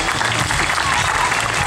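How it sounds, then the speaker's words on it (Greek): Applause from a large outdoor crowd of Atromitos football supporters at a team event in Peristeri's park, a dense, steady wash of clapping filling the whole short stretch. "χειροκροτήστε τους."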